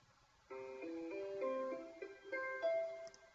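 Arpeggio played back from music notation software, a soft synthetic tone stepping through a quick series of clean sustained notes, faint and alone for about three seconds.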